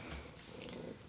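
A house cat purrs in a low, steady rumble for about a second, close by and fairly quiet, with no speech over it.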